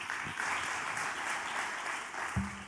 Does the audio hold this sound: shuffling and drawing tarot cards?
no